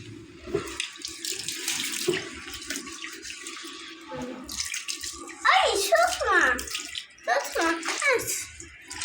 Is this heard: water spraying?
yes